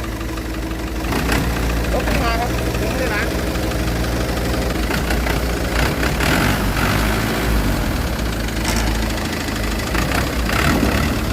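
A tractor engine runs during a test drive at a tractor dealer, a loud, steady, close mechanical drone with a rough knocking character, while people talk over it.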